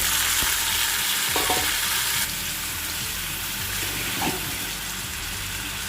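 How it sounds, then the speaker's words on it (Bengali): Onion, tomato and green chili hiss and sizzle loudly after landing in hot mustard oil, a steady close frying roar with a few clinks of stirring. "অল্প সর্ষের তেল গরম করে নিয়েছি এবার এই সবজিগুলো দিয়ে দেব"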